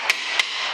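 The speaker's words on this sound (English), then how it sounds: "couple of slaps of the hammer did it" Two sharp metallic hammer strikes on a brake spring tool while fitting front brakes on a Suzuki Grand Vitara, spaced about a third of a second apart, close and ringing.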